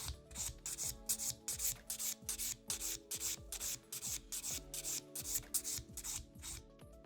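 An acrylic nail being filed and bevelled toward the tip, a close, rhythmic rasping of quick back-and-forth strokes in steady bursts, alone without talk.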